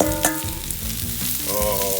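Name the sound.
mushrooms with olive oil sizzling on grill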